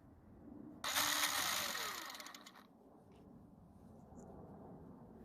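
A Ryobi electric start motor and gearbox on a test run gives a loud whirring, buzzing burst that starts abruptly, runs about two seconds and winds down with a descending whine, leaving faint background noise.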